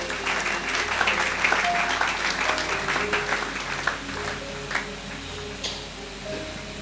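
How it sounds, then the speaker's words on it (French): A church congregation applauding, a dense sustained wash of many clapping hands with a few sharper individual claps standing out, moderately loud and continuous, with faint voices and a tonal backdrop underneath. "Quelqu'un peut acclamer le Seigneur pour cette femme."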